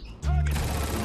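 A gunshot in the Roblox shooter RECOIL: a sudden loud burst that sets off a dense rattle of fire, with a voice speaking briefly before it.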